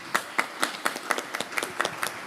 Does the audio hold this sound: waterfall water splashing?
no